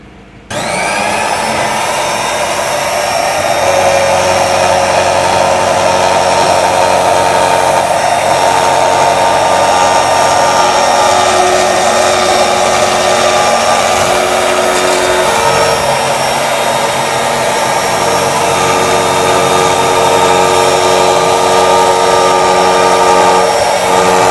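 Two Lion electric round blade cloth cutting machine running continuously, a loud, steady high-pitched motor whine with a grinding cutting tone that holds for the whole stretch after starting up.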